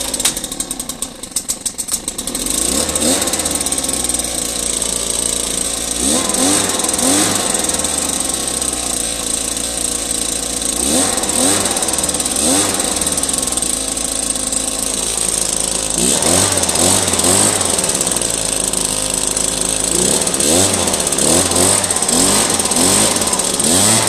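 A Stihl BG 86C or Husqvarna 525BX backpack leaf blower engine runs loud and close, idling steadily and rising in several throttle surges, with a few sharp clicks at the start.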